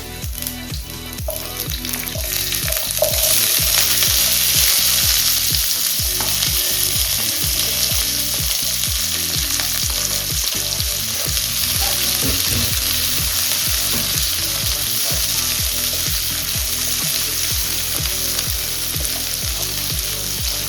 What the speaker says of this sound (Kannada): ಈರುಳ್ಳಿ ಸ್ವಲ್ಪ ಫ್ರೈ ಆಗಿದೆ.